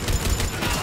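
Dense, loud rapid gunfire in a Mass Effect 3 multiplayer match, a continuous burst of overlapping shots up close.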